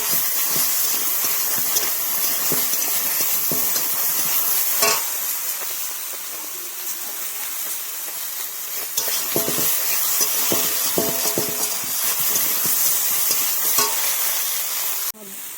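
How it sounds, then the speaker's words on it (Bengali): Raw green tomatoes sauté in a pan for a Bengali mustard fish dish, giving a steady close sizzle and hiss with frequent scraping stirs throughout, and no talking. "দিয়ে দেবো টমেটো, কাঁচা টমেটো। দিয়ে ভালো করে এটাও কষিয়ে নেবো।"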